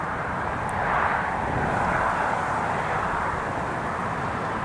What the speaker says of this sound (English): He's clear for takeoff.